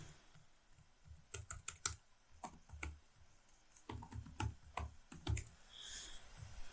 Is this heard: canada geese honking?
no